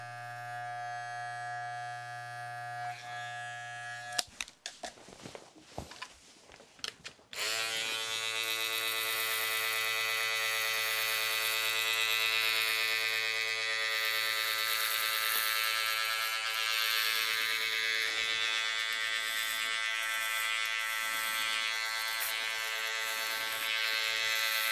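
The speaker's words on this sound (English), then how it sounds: "We're going to do it first with the trimmer" An electric hair trimmer shaves the neck during a high skin fade haircut, giving a loud, steady close-up buzz that briefly clatters and breaks off before settling into a continuous drone.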